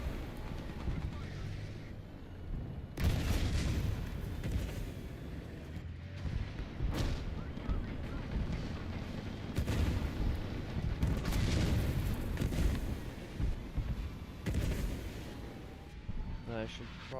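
Artillery fire in the military combat game War Thunder: heavy booming impacts recur over a dense rumbling battlefield background, some close and loud, others more distant.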